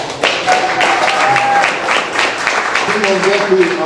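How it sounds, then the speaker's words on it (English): An audience at an outdoor music gathering in Hyde Park claps for a guest youth mentor, a busy scatter of hand claps running throughout with voices and cheers mixed in. "Can we clap it up for him?"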